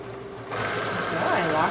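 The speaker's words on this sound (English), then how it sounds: "I'm going to take this to the machine now and I'm going to straight stitch it at 5/8 inch straight across" Sewing machine straight stitching a 5/8 inch seam on colonial costume dress fabric, its close, steady mechanical whir starting abruptly and continuing alongside a talking voice.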